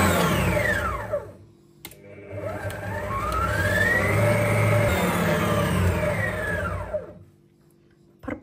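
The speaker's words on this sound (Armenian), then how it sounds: "և սկսում եմ հարել նույնպես շաքարավազով" Electric hand mixer beating eggs with sugar for a Snickers cake, a steady continuous whir that shifts pitch as the speed changes, starting and stopping with short gaps, close and loud with no talking.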